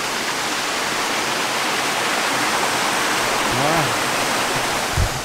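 A river flowing below a steep hillside, heard as a loud, dense, constant rushing roar of water throughout, with faint brief wind or movement sounds near the end and no speech.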